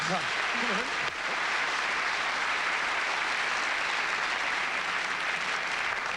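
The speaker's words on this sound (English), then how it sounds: "Give them a super round of applause." Sustained applause from a large television studio audience, dense clapping holding steady throughout, with a brief voice at the very start.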